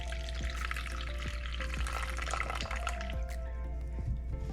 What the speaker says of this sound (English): I'll pour the water in there from all of them.